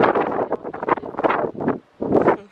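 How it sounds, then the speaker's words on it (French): Wind blows outdoors in gusty, close buffeting bursts across the microphone, rising and falling several times with a brief lull before another strong gust. "il y a du vent, je sais pas si vous allez voir"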